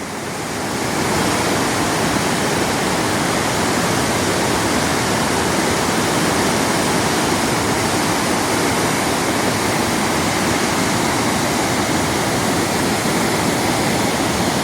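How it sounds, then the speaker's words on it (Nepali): The Budhi Gandaki river, swollen after heavy overnight rain, roars as a loud, steady broadband rush of water that continues unbroken from start to end. "हिजो राति निकै नै पानी ठुलो परेको थियो, त्यो भएको कारणले गर्दा चाहिँ बुढी गण्डकी लास्टै बढेको छ"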